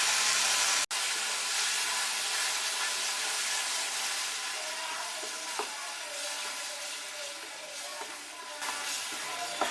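Cooked, pureed tomato hits a hot pan for an Indian dhaba-style omelette curry, giving a loud, steady hiss and crackle of sizzling that fades slightly over several seconds, with a sharp clink near the start.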